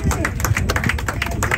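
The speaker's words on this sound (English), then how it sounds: "Clap your hands." Rhythmic hand clapping from a group of people in Eilat, Israel, a steady beat of claps running under voices and background sound, with someone talking through it.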